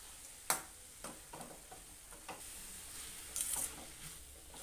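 Grated fresh coconut is stirred into fenugreek leaf bhaji in a pan with a soft, faint sizzle, broken by several scraping spoon strokes and a brief brighter hiss near the end.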